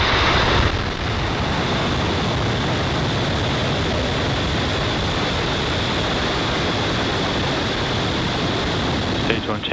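SpaceX Falcon 9 rocket engines at liftoff, a dense, loud, continuous roar that swells in right away and holds steady to the end.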